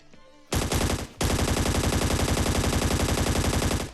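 Automatic gunfire rattles in the video game Scarfall 2.0 on the Mumbai map, one short loud burst and then a longer sustained rapid stream of shots, close and dominant.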